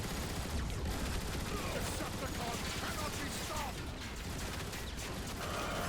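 Dense, continuous game gunfire from ion displacer turrets in Transformers: War for Cybertron, a steady roaring fusillade with mechanical clatter that stays loud throughout, overlaid with game effects.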